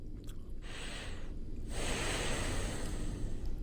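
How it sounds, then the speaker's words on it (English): Loud, close breathing from a video game, with long noisy inhales and exhales over a constant background hiss. "What's with the heavy breathing?"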